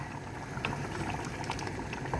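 Cumin seeds fry in hot oil in a cooking pan, giving a soft, steady sizzle with scattered faint pops, low in level and without any talking.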